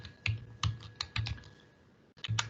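Typing on a computer keyboard, a handful of crisp key clicks in an uneven rhythm, close and fairly quiet, with a short pause before a final quick burst.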